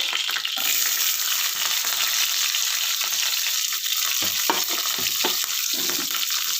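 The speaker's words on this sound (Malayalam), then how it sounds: "ഞാൻ അതിലോട്ടേക്ക് നമ്മൾ അരിഞ്ഞു വെച്ചിരിക്കുന്ന ചെറിയുള്ളിയും നമ്മുടെ കറി ലീഫും കൂടി ഇട്ട് കൊടുക്കുവാണ്" Chopped shallots and curry leaves hitting hot oil with mustard seeds for a breadfruit curry, a loud dense crackling sizzle that holds steady throughout, with occasional stirring scrapes near the end.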